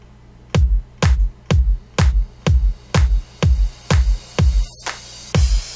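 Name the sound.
electronic clap samples in house beat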